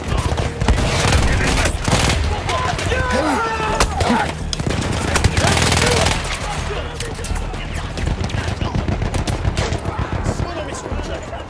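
A machine gun in Battlefield 1 rattles in long, rapid bursts of sharp cracks, loud and close, with a few pauses and background battlefield noise between volleys.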